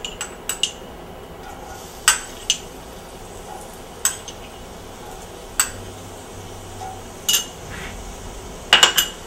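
Garlic and shallots go into a pan of olive oil and butter, with scattered clinks of a utensil against metal and a faint steady sizzle underneath, close and fairly quiet.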